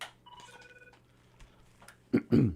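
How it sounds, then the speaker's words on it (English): A brief electronic telephone tone chimes near the start, followed by quiet and then a short burst of voice. "The phone is ringing."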